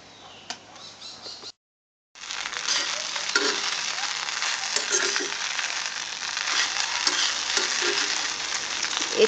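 Idli pulao with coriander leaves fries in a pan, a steady moderate sizzle with light scraping and stirring rattles, starting after a brief silent gap.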